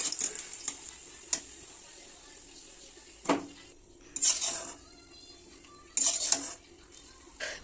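Onions fry in a pan in a home kitchen, with a faint sizzle beneath several sharp metallic clinks and scrapes of a spoon against the pan, coming in separate bursts with quiet gaps.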